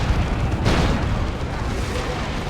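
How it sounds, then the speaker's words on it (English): A Manticore artillery strike in Warhammer 40,000: Dawn of War 2 lands as a dull rumbling boom inside a constant wash of battle noise, with a commentator talking over it. "Demolisher Cannon goes in. And Manticore strikes."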